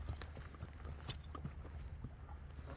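A large horse's hooves clip-clop in a loose, uneven rhythm at a Kyrgyz farm sale, several soft steps close by over steady low background rumble, with no talk.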